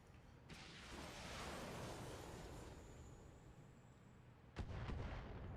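Supporting artillery fire from a base in a video game: a sustained rumbling barrage that swells and then fades, followed by a sharp, heavy blast near the end. No one speaks.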